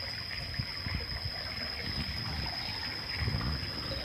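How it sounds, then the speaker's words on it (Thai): Water runs steadily through a drainage channel, a near, continuous trickling wash with small bubbling pulses and no talk over it. "น้ำไหล"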